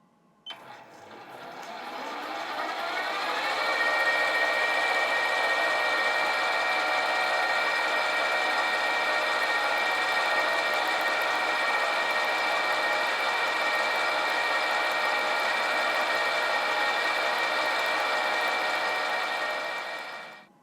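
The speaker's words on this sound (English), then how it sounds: "So now I need to turn this down to 1/8 of an inch in diameter." A metal lathe turns a small steam engine part down to 1/8 inch diameter, a continuous close whirring hum with a steady high whine that holds evenly from spin-up to run-down.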